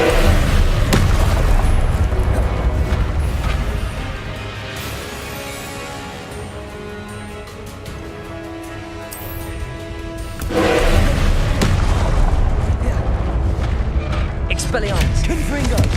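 Blasting spells cast in a Hogwarts video game set off a run of heavy, booming explosions, loud and close, with brief quieter stretches between the rumbling bursts.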